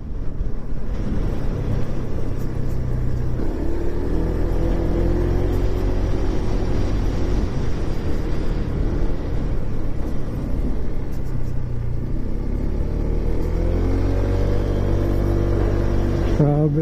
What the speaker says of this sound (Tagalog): dumadaan na sasakyan.